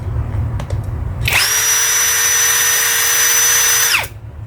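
A 21V cordless drill spins up at its lowest speed setting, a close steady whine with a tonal hum holding for nearly three seconds before it stops, following brief faint handling noises.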